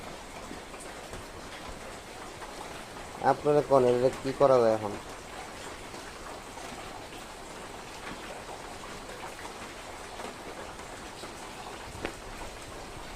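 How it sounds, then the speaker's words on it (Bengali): Heavy rain falls at night in a constant, dense hiss of drops on surfaces, steady throughout, with someone speaking briefly partway through. "বৃষ্টি হচ্ছে, প্রচন্ড বৃষ্টি হচ্ছে রাত।"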